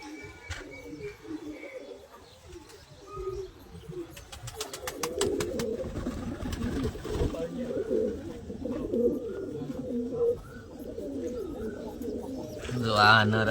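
Pigeons coo softly while being released, with a brief flurry of flapping wings and people talking over the birds throughout.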